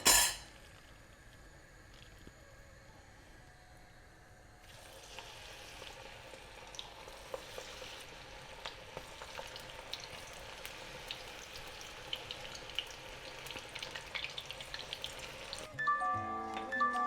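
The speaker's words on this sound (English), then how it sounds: "I'm just going to fry one more round" Sweet corn pakora frying in hot oil, a faint steady sizzle that swells and grows busier with crackling pops partway through, continuing without talk.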